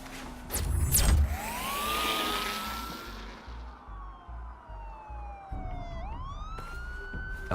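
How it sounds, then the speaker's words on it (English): Several police car sirens wail and sweep up and down in the Batman Telltale video game, loud and overlapping, one pitch sliding steadily lower before rising again, with no talking. "There are quite a few police cars convening on your location."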